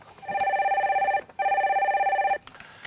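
An incoming call on a radio phone-in show rings as a telephone bell, two long electronic rings separated by a short gap, loud and close, with no talk over it.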